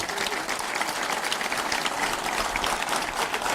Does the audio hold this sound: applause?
yes